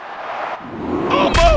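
A wrestler crashes heavily onto the mat after a urinage slam in the WWE Mayhem video game, Bray Wyatt versus Shelton Benjamin. A broad, loud thud lands near the end over steady arena crowd noise.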